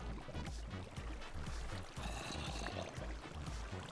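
Flowing water in a German-played video game, apparently Minecraft, a steady rushing wash over a regular low thumping beat of footsteps or game music, with no talk.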